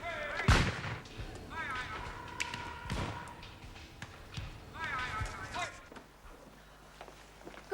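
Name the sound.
gunshots at a shooting party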